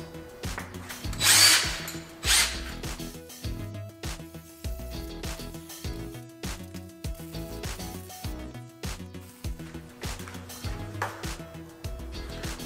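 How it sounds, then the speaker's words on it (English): A power drill with a step bit boring a hole while installing a jackshaft-style garage door opener, with short bursts of whirring and grinding that start and stop repeatedly, close and fairly loud. "my step bit only went up to half an inch, and you need something that's a little bit larger to make this hole"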